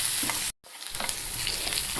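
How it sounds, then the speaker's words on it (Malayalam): Onion, green chili, ginger, garlic and curry leaves sauté in a pan with a steady, close frying hiss and stirring scrapes, broken by a brief moment of silence near the start. "സവാളയും പച്ചമുളകും ഇഞ്ചിയും വെളുത്തുള്ളിയും കറിവേപ്പിലയും എല്ലാം മൂത്തിട്ടുണ്ട്"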